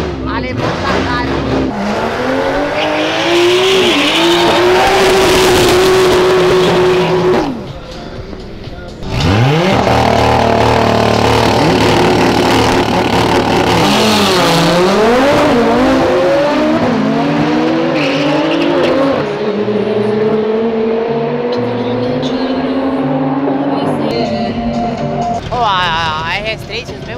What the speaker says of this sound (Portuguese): RS3 de corrida, M3 do Chum Single Turbo